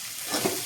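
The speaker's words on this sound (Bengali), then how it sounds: "ভালো করে ভাজা ভাজা হয়ে গেছে, এখন সাবুটা ঢেলে দিব" Sago poured into a pan of frying vegetables for sago khichuri sets off a brief, soft sizzle with a stirring swish.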